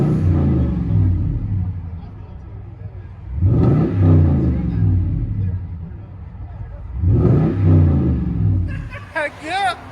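A lifted 2014 Toyota Tundra with a 5.7L i-Force V8 and loud aftermarket exhaust, heard from inside the cab, rumbling steadily and surging through two strong revs, with a brief voice near the end.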